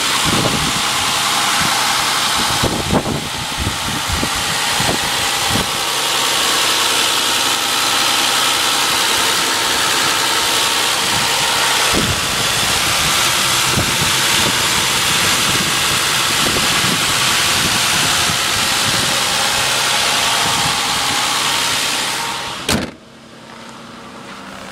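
A 3.0 Duratec engine idles after a frigid cold start with a steady, loud hum, broken by a few sharp clicks and knocks before a sudden thump near the end.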